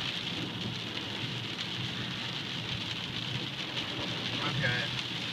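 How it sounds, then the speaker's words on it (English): Heavy rain falls hard in a constant dense hiss and patter, heard from inside a vehicle on the road, with a low rumble beneath it. "It's raining pretty good."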